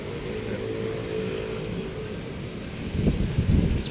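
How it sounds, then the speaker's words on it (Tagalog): Strong wind gusting outdoors at the Aguinaldo house grounds, a steady low rumble of buffeting with a louder burst near the end, no voices. "Nakalakas pa ng hangin dito."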